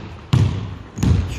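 A basketball bounces twice on a gym floor during a dribbling drill, two loud, close thumps spaced about 0.7 seconds apart with a quiet gap between them.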